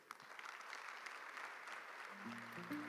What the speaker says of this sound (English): Let's keep that applause going